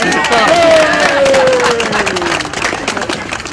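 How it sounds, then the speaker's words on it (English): Audience clapping at a live music show in a venue with waitresses, dense applause with a few cheers, loud and close, while a performer's voice carries over it. "How about another round of applause?"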